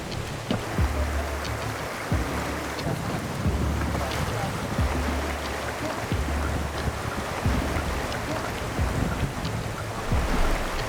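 A motorboat runs over water in Peru with a constant engine drone, wind buffeting the microphone and splashing waves slapping the hull as water comes inside the boat.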